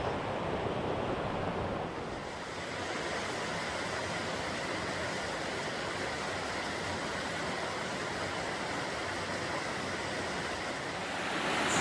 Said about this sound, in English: we're again walking, hiking along the Laurel Creek. And these cascades are absolutely beautiful.